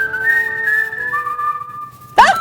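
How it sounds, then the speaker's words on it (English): A person whistles a short, wavering melodic phrase up close, with a brief noisy burst right at the end. "Demelza says, I just whistled and they came a-dancing up to me."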